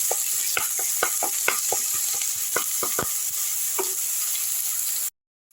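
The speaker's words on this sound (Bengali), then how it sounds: "এবার আমি মশলাটাকে একটু কষে নিচ্ছি" A masala of ginger, garlic and onion paste fries in a pan with a steady, close sizzle, while a spoon scrapes and stirs in quick clustered taps before the sound cuts off abruptly.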